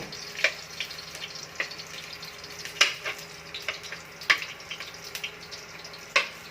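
Garlic sautéing in a pan for creamy chicken halang halang, a soft continuous sizzle broken by sharp clicks and scrapes of stirring at an irregular pace, close and alone.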